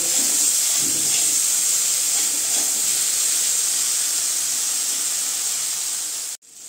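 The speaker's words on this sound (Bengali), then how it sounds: "এইভাবেই আমি বেগুনটাকেও এখন ভালো করে ভেজে নেব।" Brinjal (eggplant) fries in hot oil with a loud, continuous hiss and sizzle up close. The sound holds steady throughout, then cuts off abruptly near the end.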